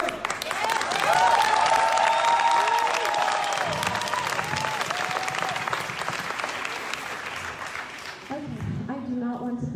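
A crowd at a protest inside Seattle City Hall applauds and cheers loudly and continuously, with whoops rising over the clapping. A voice speaks through the noise near the end.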